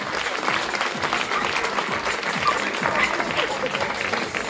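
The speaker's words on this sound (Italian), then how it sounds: "Io direi di fare loro un grande applauso, ma davvero col cuore." Audience applause at the Miss Riviera del Brenta 2025 pageant finale in Campagna Lupia, Venice: dense, steady clapping from a crowd that fills the whole stretch at an even, moderately loud level.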